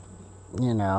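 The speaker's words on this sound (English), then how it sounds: "Now there's some bees in there, but hardly any" A steady honeybee buzz hums in the background, then a voice starts speaking over it partway through.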